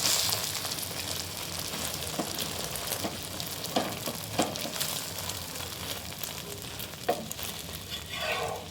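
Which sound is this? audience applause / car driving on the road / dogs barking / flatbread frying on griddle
flatbread frying on griddle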